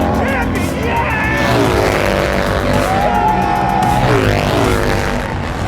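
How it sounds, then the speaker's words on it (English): An Indian Challenger bagger race motorcycle roars along the front straightaway at New Jersey Motorsports Park during a King of the Baggers race, the engine note rising and then sweeping past loudly over crowd noise and commentary. "Here comes Troy Herfoss onto the front straightaway, and he wins here at New Jersey Motorsports Park"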